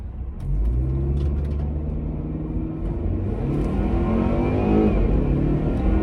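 A Volvo V60 T5, base model, accelerating hard on a back road, its engine rumble climbing steadily in pitch through the gears under constant road and wind noise, loud and close from inside the cabin.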